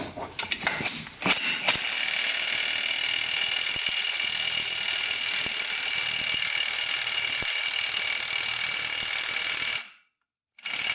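Ratchet wrench loosening a bolt on a junk ATV, a steady close mechanical clicking that runs continuously before cutting out near the end, with a brief pause and then resuming.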